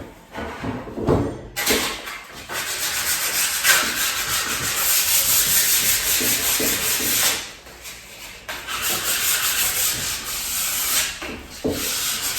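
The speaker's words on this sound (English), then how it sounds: "I'm also going to sand it." Wooden kitchen cabinet parts are sanded by hand in long steady rubbing strokes, close and loud, with a short pause midway before the abrasive scraping resumes.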